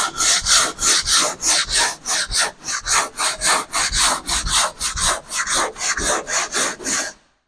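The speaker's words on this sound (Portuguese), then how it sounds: "quando eu lixo acompanhando a curva" Steady, rhythmic hand sanding of cured polyester fibre body filler along a curved panel, close and loud, with even back-and-forth rasping strokes roughly every quarter second that stop abruptly at the end.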